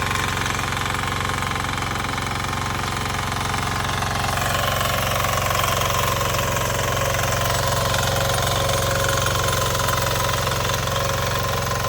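The engine of a Chirachi backpack rotary power weeder runs continuously at close range with a loud, buzzing, rattling drone. Its pitch shifts slightly partway through.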